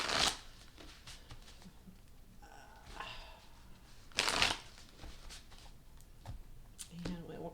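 Tarot cards are shuffled in several brisk riffling bursts, close and fairly quiet, separated by short pauses.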